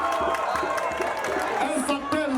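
Audience at a community fundraising event in Gohitafla cheering and clapping in a dense, continuous crowd roar, with voices and whoops mixed in throughout.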